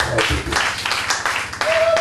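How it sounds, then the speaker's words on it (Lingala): A church congregation applauds with brisk rhythmic clapping, and voices carry over and between the claps. "Est-ce qu'on peut acclamer?"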